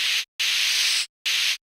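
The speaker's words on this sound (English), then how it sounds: "Second ingredient is again our well-known spray can." Three bursts of steady, loud spray can hiss, separated by short silences, the middle burst longest.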